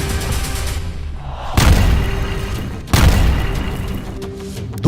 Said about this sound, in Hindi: एक तरफ गाजा पर बमबारी हो रही है